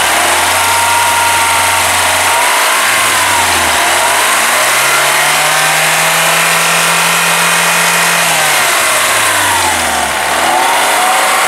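A homemade tractor's VAZ classic engine runs close and loud near a high idle, its pitch dipping and swelling as the revs drift up and down, with no talking over it.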